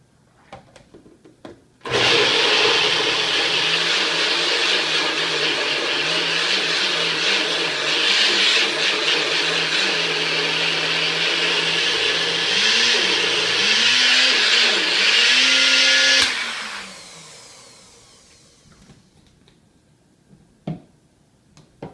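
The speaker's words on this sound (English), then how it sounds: "And I'm going to blend this up." An electric blender whirs loudly and steadily for about fifteen seconds, blending almond yogurt with probiotic powder, its pitch wavering as the contents churn, then winding down to quiet.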